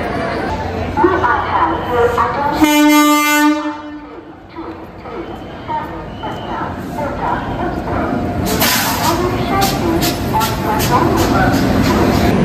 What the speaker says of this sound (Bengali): তো ট্রেন আমাদের ছেড়ে দিল অযোধ্যা ধাম থেকে।